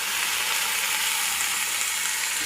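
Bitter gourd pieces fry in hot oil in a pan, giving a steady, close sizzle with a bright hiss that continues evenly throughout, with no talking.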